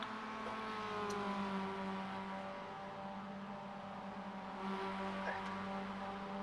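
A club race car at Oran Park with its engine screaming on track, a sustained harmonic engine whine that rises and falls with revs, heard at a distance under a commentator's voice.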